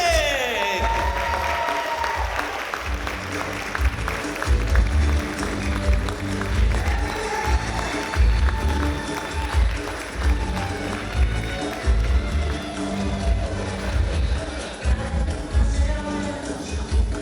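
A crowd at an outdoor vow renewal in the English garden of Epcot's UK Pavilion claps and cheers continuously, a lively dense patter with shouts, fairly close, while voices carry on underneath.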